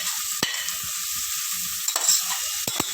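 Turmeric, chili powder and garam masala are stirred in a hot pan for an aval vegetable biryani, a soft continuous sizzle broken by a few sharp scrapes of the spoon.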